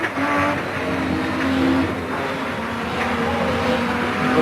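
Touring car engines whine past on the Mallala circuit during a 1989 ATCC race, a steady roaring drone with shifting pitch, fairly loud and continuous.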